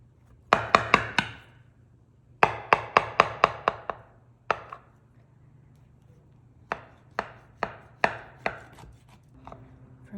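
Knife cutting through a baked raspberry fritter on a board, a quick run of crisp, close chopping thuds in three bursts, loud and alone with no talk.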